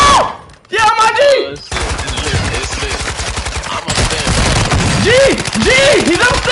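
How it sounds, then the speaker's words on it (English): Rapid bursts of gunfire in the Warzone video game crackle throughout, dense and continuous, under excited overlapping voices of players talking. "there's like hella shooting"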